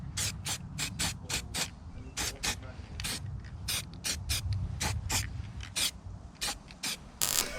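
Spray can misting paint onto bare ground metal on a BMW E28 suspension part to keep rust off, a series of short hissing bursts in quick succession, close and fairly quiet, over low workshop rumble.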